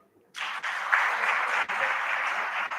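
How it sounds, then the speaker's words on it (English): Steady applause from an audience starts abruptly and continues at an even, fairly loud level throughout, with many hands clapping together. "So let's clap again."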